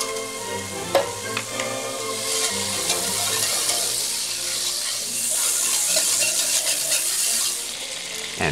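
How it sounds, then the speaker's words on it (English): Butter melting in a hot cast iron pan of deglazed turkey drippings for gravy, a steady close sizzle and fry with scraping stirring sounds and a brief watery splash near the end, no talk. "then adding half a stick of butter"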